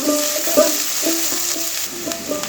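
Chopped onions sizzle steadily in a hot pan for an egg curry, with repeated scraping clinks of a spatula stirring them at an even rhythm, close and clear with no talk.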